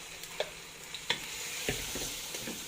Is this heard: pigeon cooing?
no